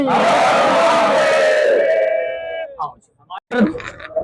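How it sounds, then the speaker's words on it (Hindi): A crowd at a Hindu religious procession shouts a devotional jaikara to Lord Shankar, a loud massed cry led by a voice that swells and then breaks off into short scattered shouts. "एक बार जयकारा लगा दीजिए, बोल शंकर भगवान की, बोल शंकर भगवान की जयकारा"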